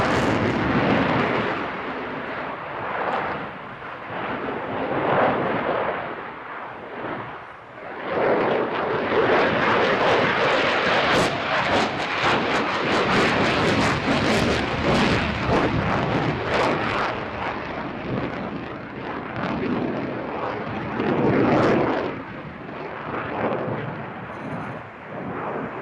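At Farnborough International Airshow, a fighter jet pulls through a high angle of attack loop, a loud, sustained roar that swells and rumbles continuously overhead with no talk.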